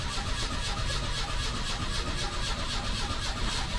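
A Volkswagen Passat engine, with fresh fuel poured into the carburetor and a new battery, runs steadily and loudly close by through the whole stretch, a dense mid-range engine roar with no talk over it.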